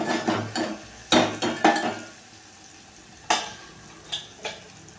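A spoon stirs red chilli powder in a pan. Scrapes and clinks come in short bursts, with quiet gaps and a soft sizzle underneath.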